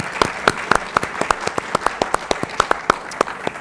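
At a university address, a small audience applauds with distinct, individually audible claps in a brisk uneven rhythm for a few seconds.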